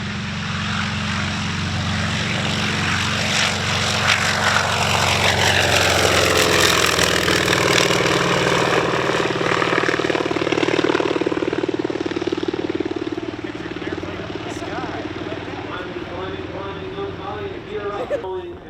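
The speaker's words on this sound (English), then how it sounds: "Wildcat, piloted by Mr. Kevin Sinibaldi" The engine of an FM-2 Wildcat propeller warplane drones loudly and steadily, its pitch sweeping as it passes in flight, then fading somewhat toward the end.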